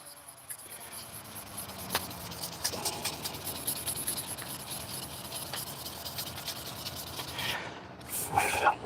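Carbon fiber sanded by hand with 1,500 grit sandpaper, a quiet, continuous scratchy rubbing with uneven strokes, close and soft, growing a little louder near the end.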